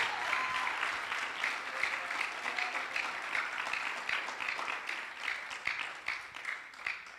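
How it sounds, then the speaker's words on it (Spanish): A church congregation applauds during a pastor's sermon, a sustained wash of many hands clapping heard from a distance at moderate volume, with a faint voice near the start. "Denle ese aplauso fuerte al Dios santo que servimos."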